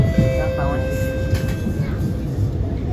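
An SMRT R151 metro train on Singapore's East West Line rolls into Jurong East station, its steady rumble carrying high electric motor whines that shift in pitch as it slows, with a voice speaking over it.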